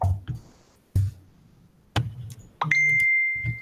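A phone gives several short notification taps and clinks, ending in one clear, sustained ding that rings on and slowly fades, close by in a quiet room.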